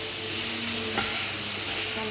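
Ginger paste and tomato puree stirred into a pan of already fried garlic and onion for a chicken curry, sizzling steadily up close with a spoon scraping and stirring through the brief stretch.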